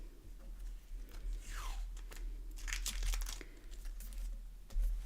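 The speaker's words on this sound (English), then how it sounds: "And again, I'm going to tape it down." Adhesive tape torn and pressed down on a mixed media craft piece, giving scattered close crinkling, ripping and rubbing sounds at low volume over a faint background hum.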